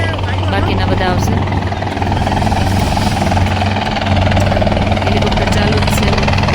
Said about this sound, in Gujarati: હેલિકોપ્ટર ચાલુ જ છે.